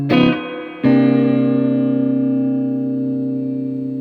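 A single electric guitar chord rings out through a Marshall JCM900 tube amp, struck twice in quick succession, then sustains and slowly decays with a reverb tail.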